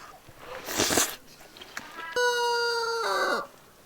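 After a short burst of rustling noise, a chicken lets out one loud, drawn-out call that holds for about a second before fading.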